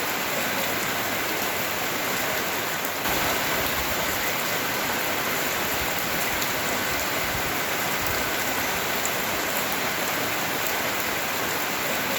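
Steady rain falls outdoors along a walking route near Cismon del Grappa, a dense, even hiss of drops hitting surfaces that runs unbroken throughout, close and fairly loud, with no voices.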